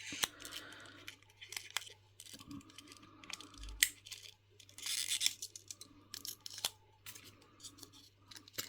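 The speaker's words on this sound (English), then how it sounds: "So I'm going to use my tweezers because I don't want to rip this box." Cardboard tree topper box being opened with tweezers, a quiet series of small clicks, scrapes and crinkles at irregular intervals, close and without talk.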